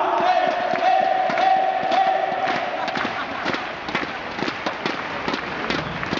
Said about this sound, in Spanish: Y ahí están las palmas de Coruña.